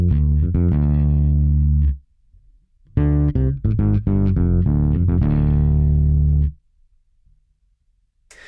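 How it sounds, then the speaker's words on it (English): Bass guitar played through an octave up and octave down effect, close and loud, with a short opening phrase, a pause, then a longer run of plucked notes ringing out before fading to silence. "where most of the sound is the regular bass sound, and then I have a little bit of octave up and a little bit of octave down"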